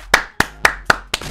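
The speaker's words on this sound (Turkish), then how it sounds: "Alkışlıyorum." Five crisp hand claps sound close and alone at an even, quick pace.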